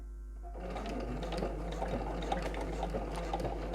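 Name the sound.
sewing machine stitching a zip on a purse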